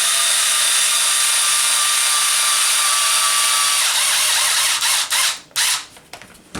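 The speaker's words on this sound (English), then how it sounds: "Now we're going to put in a long screw." A small cordless drill drives a long screw into the captured suspension pins of a Traxxas Maxx RC car, a steady close whir that stops and stutters into short bursts near the end.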